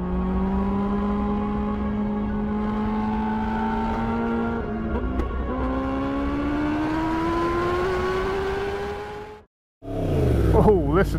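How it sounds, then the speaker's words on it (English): A 2016 Yamaha R1 anniversary edition sport bike accelerating hard, its engine note climbing steadily through a gear, then a brief drop as it shifts and pulls again loudly and close. "now I've finally got my hands on this beautiful anniversary R1 to take it for a bit of a spin"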